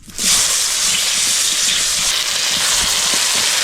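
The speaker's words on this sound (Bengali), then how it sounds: "তেল গরম হয়ে গেছে কাকরল ভেজে নেবো" Spiny gourd (kakrol) frying in hot oil in a pan, a loud, steady sizzle that bursts in and then hisses continuously at close range.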